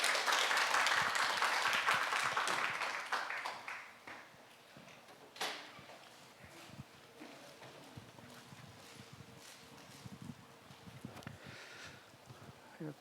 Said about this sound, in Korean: 자, 박수로 환영하시겠습니다.